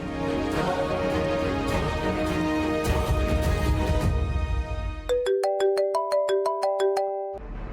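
A phone ringtone plays a looping electronic melody, then shifts into a bright, evenly spaced chime pattern, loud and alone.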